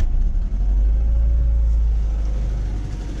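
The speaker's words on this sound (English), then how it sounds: "It's got an exhaust leak back there." A 2003 Ford Focus with about 228,000 miles and an exhaust leak idles with a loud, deep rumbling exhaust, a steady low throb that stays close and constant throughout.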